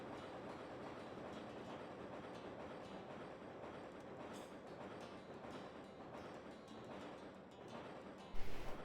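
A train rolls steadily along the rails in a video game, its continuous rumble and rhythmic clatter filling the scene, with a louder burst of noise at the very end.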